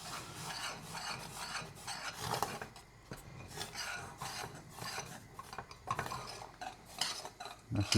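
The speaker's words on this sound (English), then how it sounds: "Grab a spoon, just move that around so we can get the butter in the pan." Spoon moving milk and butter around in a pan on the stove: quiet, repeated scraping and clinking of metal against the pan in uneven strokes, close up, with no talking.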